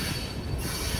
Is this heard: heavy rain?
no